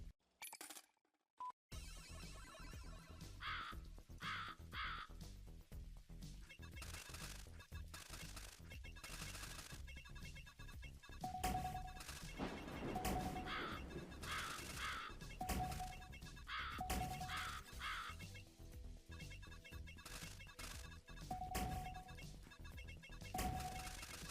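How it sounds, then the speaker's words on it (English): Crows caw over and over in the arcade game Snow Bros., as short repeated electronic cries during a boss fight, with busy game music and effects running underneath. "But definitely these birds are pissing me off."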